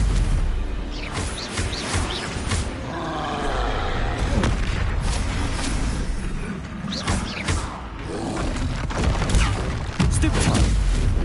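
Bombarda explosion spell going off in Hogwarts Legacy, a dense barrage of booming blasts and thuds in the middle of battle, with crackling impacts and a rumbling low end throughout.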